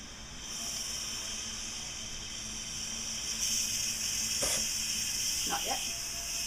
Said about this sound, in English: So I'm doing the quick release on the pressure.